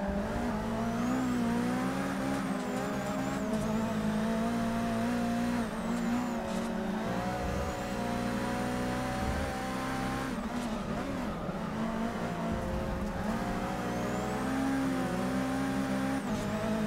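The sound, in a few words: racing cars in Forza Motorsport 6 video game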